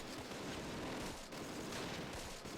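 Sustained burst of MG42 machine gun fire in the World War II strategy game Close Combat, a dense, continuous rattle filling the whole moment with a brief dip midway, loud and close with no talk.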